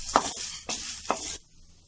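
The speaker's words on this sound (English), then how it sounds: "And now into the same oil, let's add 1 cup of Bengal gram and let's roast it." Bengal gram roasting in hot oil gives a bright, hissing sizzle broken by a few strokes of stirring scrapes, then dies down to a quieter hiss, close and without talk.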